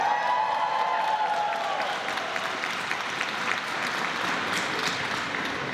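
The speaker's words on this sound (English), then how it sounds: "Give yourselves a round of applause." Graduating class of 2014 applauding themselves at a Golden Gate University commencement ceremony, a steady dense wash of clapping from a large crowd that holds level throughout, with a speaker's voice trailing off at the very start.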